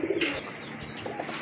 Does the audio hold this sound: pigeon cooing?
yes